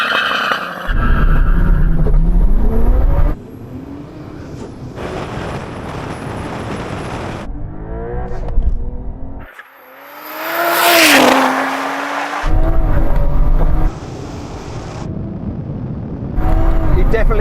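A Toyota Supra fitted with a swapped ZF 8-speed automatic launches off the line against a Porsche in a drag race. Loud engine roar and rising revs come in bursts with gear shifts, and people talk over it.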